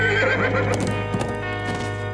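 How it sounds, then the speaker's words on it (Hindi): A cartoon horse lets out a loud, wavering whinny over steady background music, lasting about two seconds with no talking. "ए, उस घोड़े को रोको।"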